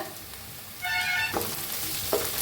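Onion fries in a pan, with a moderate sizzle that swells partway through. A couple of brief scraping strokes follow, and a faint tonal whine briefly rises and falls. No one speaks.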